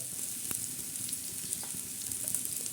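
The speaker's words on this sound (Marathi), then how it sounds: "आता हे मस्त असं हलवून घेणार आहोत हे बघा कसं तडका बसलाय आहे त्याला" Red chili powder, turmeric and salt sizzling in hot oil in a pan while being stirred, a steady close hiss of frying with occasional soft scrapes of the spoon, no talking.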